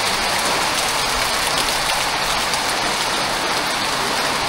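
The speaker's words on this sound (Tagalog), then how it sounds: "Ganyan-ganyan yung ulan po na malakas" Heavy rain pouring steadily onto surfaces, a dense, loud, unbroken hiss of drops with no pauses and no voices.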